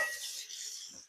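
A brief, soft hiss of roast meat searing in a hot pan, a quiet bright crackle that fades out.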